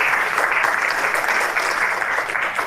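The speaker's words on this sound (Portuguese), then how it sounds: "Mais uma salva de palmas, por favor." An audience at an academic event gives a steady round of applause, a dense wash of clapping that holds at an even level throughout.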